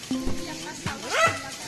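Dogs bark in short, sharp bursts and yelps at wild boars passing by on a roadside, close and loud, with people talking over and between the barks.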